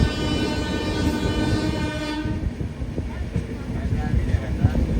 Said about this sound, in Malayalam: ട്രെയിൻ വളഞ്ഞു പോകുന്നത് കണ്ടോ?